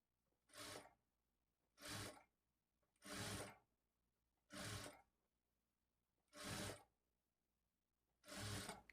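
A sewing machine stitches thread piping along fabric, running in six short, loud bursts of rapid stitching separated by brief pauses, with no voices.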